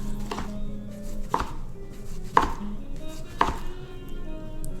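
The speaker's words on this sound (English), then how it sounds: "just cut them in half and just throw them in there" A dull knife chopping vegetables on a cutting board, four distinct sharp knocks spaced about a second apart, close with a faint background hum.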